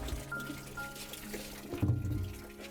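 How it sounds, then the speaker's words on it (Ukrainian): Water starts running from an opened natural spring, a soft continuous trickle and gurgle that swells into a fuller, splashy flow near the end, close and moderately quiet. "Чуєш шум води."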